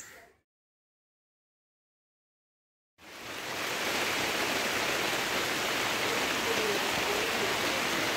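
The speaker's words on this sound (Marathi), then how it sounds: "पाऊस पडांतर सुरुवात झाली" Steady rain in a Konkan village during the Shirgao Lairai fair season, a dense hiss that starts abruptly after a brief silence and then holds at an even, fairly loud level to the end.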